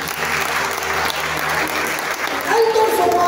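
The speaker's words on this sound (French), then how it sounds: "On nous donne des acclamations." A church congregation breaks into loud applause and acclamations, a dense wash of clapping and cheering voices, with a speaker's voice and a brief sustained musical tone near the end.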